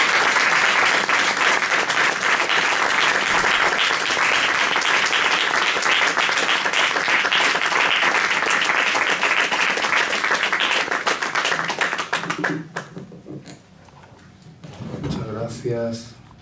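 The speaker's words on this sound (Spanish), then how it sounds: "Vamos a tributar un aplauso a Francisco Zamora Lobos," Audience applause in tribute to Francisco Zamora Loboch at a homage and posthumous novel presentation: loud, dense, sustained clapping for about twelve seconds, then tapering off as a voice begins speaking.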